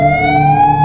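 A siren tone called the Modulator sounds as a loud, steady harmonic wail with a slight upward slide. It is heard alone for a moment with no pauses.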